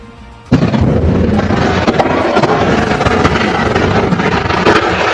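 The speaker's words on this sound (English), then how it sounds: "it slams into a wall, triggering a massive explosion that engulfs the scene in fire" A sudden loud blast erupts after a brief quiet moment as a crashing car slams into a wall in a car showroom, followed by a sustained roaring rumble like a large fire burning.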